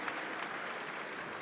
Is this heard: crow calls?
no